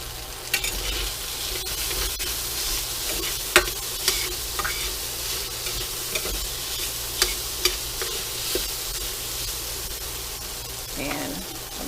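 Curry powder is stirred in a frying skillet, with a steady sizzle and repeated scraping stir strokes throughout, moderately close and continuous.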